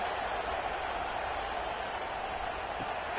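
A college football stadium crowd gives off a steady, broad roar and murmur at a distance, continuous and without distinct cheers, with no talking in the foreground.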